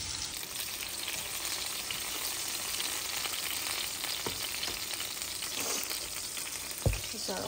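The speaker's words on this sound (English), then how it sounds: "Making some chicken nuggets with adobo. Still boiling." Chicken nuggets with adobo frying in a pan, a steady close sizzle and bubble throughout with occasional stirring scrapes and one sharp clink near the end.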